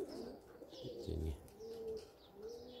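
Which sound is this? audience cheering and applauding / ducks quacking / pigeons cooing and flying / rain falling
pigeons cooing and flying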